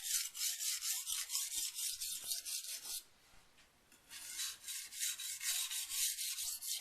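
Henckels kitchen knife blade rubbed lightly across an oiled Norton India sharpening stone, a soft rhythmic swishing of steady back-and-forth strokes, close and quiet, with a short pause midway.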